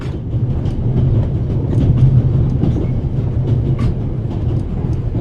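A train rolls along its rails in the video game The Raven: Legacy of the Master Thief, a steady low rumble with faint rhythmic clatter that carries on unbroken throughout.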